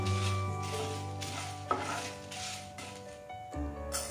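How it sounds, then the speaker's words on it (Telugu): Coriander seeds and cumin being dry-fried in a pan for palak rice, a soft continuous sizzle with occasional scraping and clinks of a spoon against the pan, no talking. "1 స్పూన్ ధనియాలు, వీటన్నిటినీ వేసుకొని కాస్త ఫ్రై చేసుకోవాలి."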